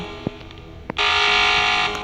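Two short soft ticks, then a loud sustained electronic buzzer tone that holds for about a second before tapering, in the Roblox game Squid Game.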